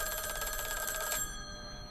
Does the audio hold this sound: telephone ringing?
yes